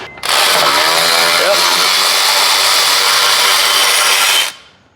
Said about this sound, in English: Let's see if we can just zap it off with the electric ratchet.